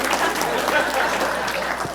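An audience claps steadily for parents at a closing celebration, a dense, even wash of applause lasting the whole moment with a few voices mixed in.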